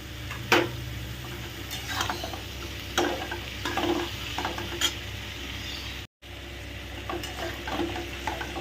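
Potatoes and onion fry in a pan for a minced-meat and snake gourd dish, a continuous close sizzle broken by repeated scraping strokes of a spatula stirring, with one brief dropout of sound and no one speaking.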